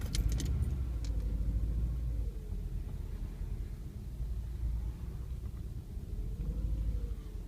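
A BMW E36 engine idling roughly after a cold start with a rattling, knocking fault under the hood, giving a steady low rumble with faint mechanical clatter and no talking.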